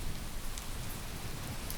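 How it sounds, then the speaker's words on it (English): Rain falls steadily as a background bed for a calm sleep story, a soft continuous patter and hiss with a low rumble underneath, unbroken and alone without any voice. "the rain settled in again"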